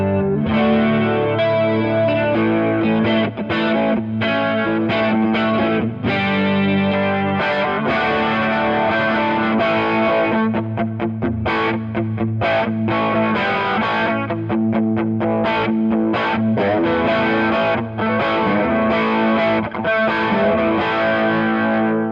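Electric guitar runs through a vintage BOSS chorus pedal, its swirling, shimmering chorus on loud, driven chords and choppy strummed rhythms playing continuously for over twenty seconds, with no talking.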